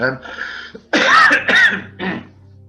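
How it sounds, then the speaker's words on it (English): A few close, harsh coughs in quick succession, bursting out amid a person speaking. "I've got a cough."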